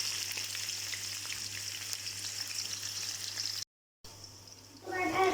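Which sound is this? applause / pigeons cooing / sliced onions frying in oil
sliced onions frying in oil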